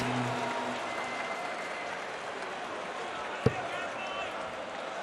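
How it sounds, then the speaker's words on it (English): A darts crowd at a Players Championship final applauds and cheers in a steady, fairly distant wash of clapping, broken by one sharp thud midway through. "the crowd is just loving it"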